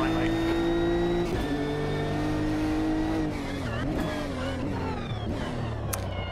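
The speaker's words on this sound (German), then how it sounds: "Das Bremsen und das Geräusch des Getriebes beim Unterschalten." In the racing simulator Automobilista 2, a race car brakes hard and the gearbox downshifts, the loud engine note dropping and then rising again through several blipped gear changes, with faint tire noise underneath.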